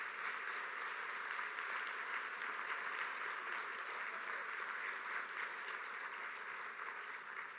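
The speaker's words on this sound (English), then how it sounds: "How about one more round of applause for everybody at Junior Achievement?" An audience at the Junior Achievement Business Hall of Fame event claps in steady, sustained applause that fills the room evenly, with no break.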